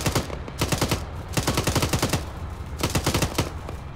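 Sustained suppressive automatic gunfire in the military shooter ARMA 3, loud rapid bursts of machine-gun fire in quick repeated strings with short gaps between them.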